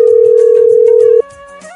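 A steady electronic telephone tone sounds loud and close for just over a second, then cuts off abruptly, leaving a quieter background.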